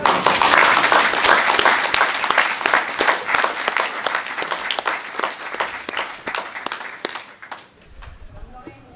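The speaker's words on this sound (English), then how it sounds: "I think John deserves a round of applause." Round of applause from mourners at a memorial service, loud and dense at first, then gradually thinning and fading out near the end, with some voices underneath.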